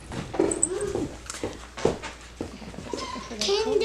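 A Mini Whoodle puppy gives soft whimpers and yips close by in a room, its small sounds scattered among overlapping adult voices talking and cooing.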